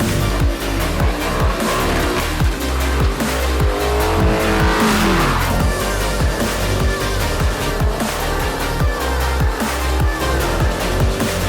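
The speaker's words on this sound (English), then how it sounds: "So there's our old exhaust, almost done with the installation." Stock exhaust on a Ford Mustang GT roars loudly and continuously, revving with tire squeal and skidding, close to the car with no talk.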